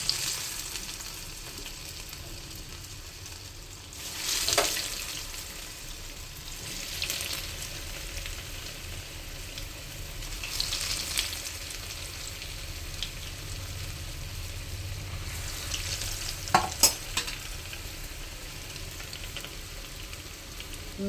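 Kaya churuttu, plantain rolls, deep-frying in hot oil: a steady crackling sizzle with occasional louder bursts and spatters as pieces are added and moved, close and fairly quiet, no talking.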